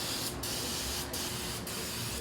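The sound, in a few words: spraying parts wash cleaner on a Porsche 996 oil filter area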